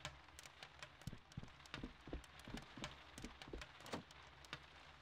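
Rain falls in a scene from the video game Tales of Graces f, a soft, steady patter with scattered sharper drops striking a surface, fairly quiet and with no voices.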